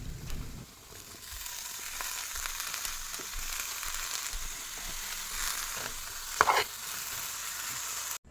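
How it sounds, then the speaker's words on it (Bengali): A potato mixture with spices and green peas is stirred in a pan, with a steady faint sizzle and scattered scraping clicks of a spoon and a brief louder scrape near the end. "আলুর সাথে মশলাগুলো মিশিয়ে নিয়ে অ্যাড করে দেব কড়াইশুঁটি"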